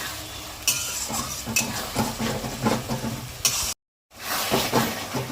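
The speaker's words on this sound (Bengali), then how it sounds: "এটা আমি 5 মিনিটের মতো কষিয়ে নেব" Onion, ginger and garlic fry in a pan for Bengali chicken maharani, with rhythmic spatula stirring and scraping over a close, steady sizzle, broken by a brief silent gap near the end.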